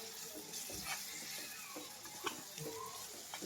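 Ginger-garlic paste hits a hot pan and sizzles with a soft, steady frying hiss and a few light stirring clicks, fairly quiet and close, with no talking.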